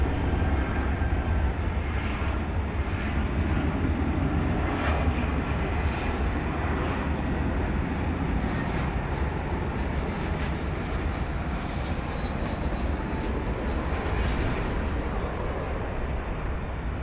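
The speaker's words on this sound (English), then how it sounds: "I believe I heard that UPS, the A300 Heavy, is going to be going next." A UPS Airbus A300 heavy jet taking off at night at DFW Airport, a loud, sustained engine roar with deep rumble that holds steady throughout, heard alone without talk.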